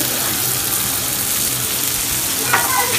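Onion and tomato sautéing in hot oil in a pan for a village-style non-veg curry, a loud, steady sizzle running throughout with a brief clatter of stirring near the end, no voices.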